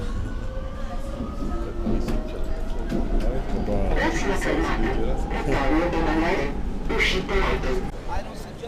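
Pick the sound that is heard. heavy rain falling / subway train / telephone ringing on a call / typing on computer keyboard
subway train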